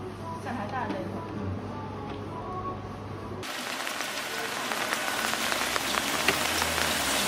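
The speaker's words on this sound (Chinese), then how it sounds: "刚下雨" Rain patters steadily on surfaces outdoors, a dense and continuous wash of drops that grows louder and brighter partway through, with some background noise underneath.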